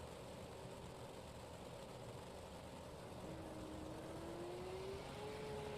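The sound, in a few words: dirt track race car engine idling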